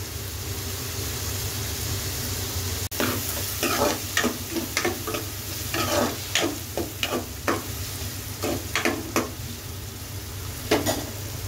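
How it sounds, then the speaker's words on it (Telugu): Sliced onions fry in a pan until browned for an egg and jackfruit seed curry, a steady sizzle with repeated scraping stirs of a spatula, close and loud with no talking. "ఉల్లిపాయలు మనం కొంచెం ఫ్రై చేసే వరకు బ్రౌన్ కలర్ వచ్చే వరకు వేయించుకుందాం"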